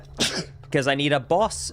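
A single sharp sneeze early on, followed by a person talking.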